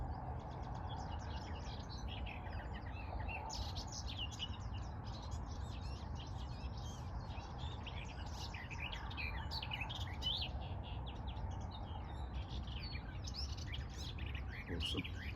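A garden warbler sings from a small treetop, a long run of bright, fast warbling phrases over a constant low background hum, clear and fairly near, continuing almost without pause.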